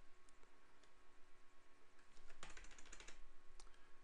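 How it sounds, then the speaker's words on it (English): A few soft computer keyboard clicks, then a quick flurry of key presses, faint and close against a quiet hum. "You hit Control and Alt on your keyboard"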